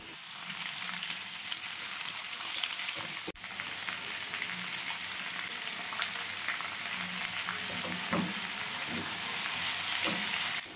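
Raw mango pieces frying in oil with panch phoron spices, turmeric and salt make a continuous close sizzle, broken by a spoon stirring and scraping the pan, with one short sharp tap partway through.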